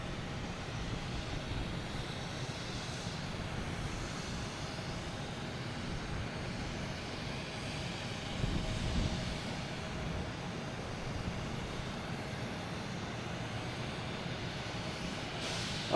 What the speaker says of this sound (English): And I think we have Lufthansa A380 heading to the Conga line.